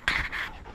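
Close, quick panting from a Yorkie out on an opening-day dove hunt, a short breathy burst lasting under a second with no talk over it.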